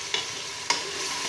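Chickpeas with spices being fried and stirred in a pan, a steady sizzle broken by two brief scrapes of a spoon.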